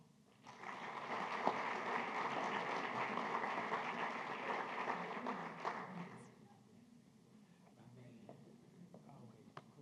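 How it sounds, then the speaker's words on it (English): Audience at a school Purple Star ceremony applauds for about six seconds, a dense patter of claps that fades out into quiet room tone with faint voices. "Let's give a round of applause for Alpha Academy"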